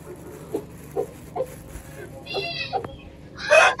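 An Aseel rooster, a Thai and Pakistani cross, clucks while being fed rice: several short separate clucks, then a louder drawn-out call near the end, close by, with a low background hum.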